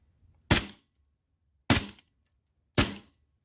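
A gas blowback airsoft M1911 pistol test fires three separate shots, each a sharp, loud pop with a brief hissing tail, spaced about a second apart with quiet between them and no speech.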